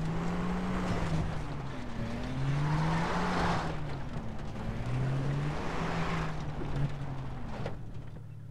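A car engine in the video game Far Cry 3 Blood Dragon revs and shifts through rising and falling pitch sweeps, loud and close, with a steady drone underneath and no talking.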